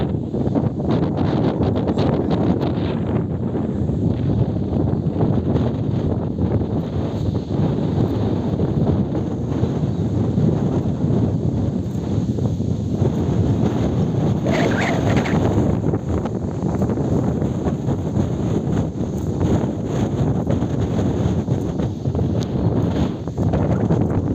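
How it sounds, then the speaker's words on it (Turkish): Steady, loud wind buffeting the microphone throughout at Suadiye nature park in Kartepe, Turkey, a continuous low roar with gusty rumble and no talking. "rüzgar var"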